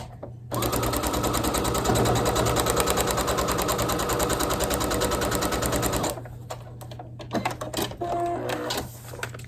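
A sewing machine stitches a quilt block along a marked line for foundation paper piecing, running in a fast, even mechanical rattle for several seconds, then stopping, followed by light handling clicks and rustles close by.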